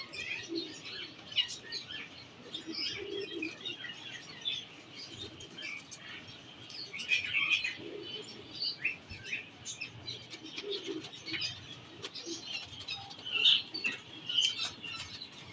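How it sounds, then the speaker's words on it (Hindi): Soft cooing and rustling wings of breeder pigeons in a quiet space, with occasional chirps and faint flutters scattered throughout. "ये ब्रीडर कबूतर हैं दोस्तों"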